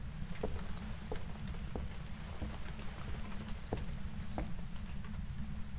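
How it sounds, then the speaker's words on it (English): Hail patters outside in the Phasmophobia ghost-hunting game, a faint, dense rain-like hiss with scattered sharper ticks and knocks as stones strike. "I think I hear hail outside"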